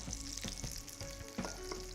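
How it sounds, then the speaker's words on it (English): Chili and whole spices, including kalpasi and marathi moggu, sizzle and crackle in hot oil in a duck Chettinad preparation, a close, steady frying hiss with sharp pops and a brief stir, no voices. "As this sizzles"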